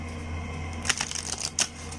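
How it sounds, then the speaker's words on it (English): Oracle cards being shuffled by hand, a quiet run of papery flicks and snaps in two short bursts after a near-silent start, close to the listener. "I can totally shuffle it that way."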